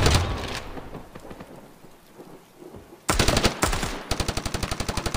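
A video game grenade explosion: a loud burst hits suddenly partway through, followed by fast repeated gunfire bursts, with earlier scattered shots and rumble.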